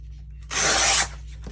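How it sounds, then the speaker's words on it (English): Paper tears in one steady rip lasting about half a second while a journal card is being made. It is close and bright against a quiet room. "I'm going to rip this right here"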